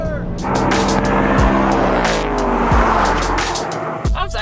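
Drag race between a 2024 Honda Civic Type R and a turbo-versus-V8 Ford Mustang with a 10-speed: loud, close engines roar steadily, with several sharp gear-shift breaks and rising revs, ending in a brief squeal.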